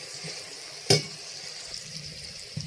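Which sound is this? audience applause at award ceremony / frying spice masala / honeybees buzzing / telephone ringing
frying spice masala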